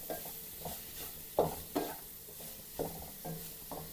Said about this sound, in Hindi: इन सबको हम हल्का सा फ्राई कर लेंगे।